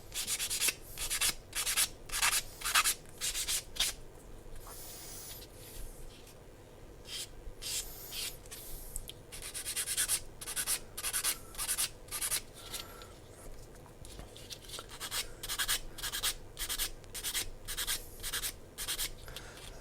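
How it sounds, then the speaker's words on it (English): A sanding stick rubs mould lines off a plastic part from a Hasegawa 1/35 Hitachi ZAXIS 135US excavator kit, giving quiet, close, rhythmic scratchy strokes in steady repeated bursts with brief pauses. "there is a little bit of a mould line around the outside, so a bit of a sanding stick just to take them off"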